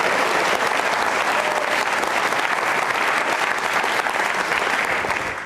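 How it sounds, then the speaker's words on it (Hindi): Steady, dense audience applause fills a television studio programme from start to finish, loud and continuous, tapering slightly at the very end. "तालियां जोरों से बजाइए सरकार के इस कदम के लिए"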